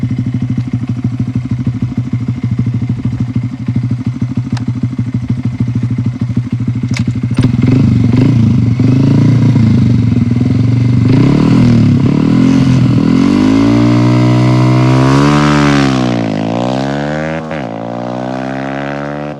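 A stock Bull 125 engine idles with a steady putter, then revs up and down in several rising and falling sweeps, loud and close with no talking.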